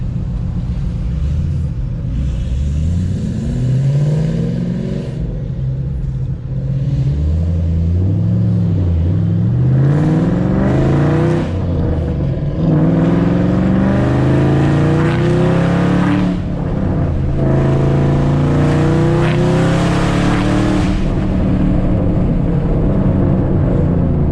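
Modified car engine making about 800 horsepower, revving hard and continuously up close, with repeated rising and falling pulls and a deep rumble throughout.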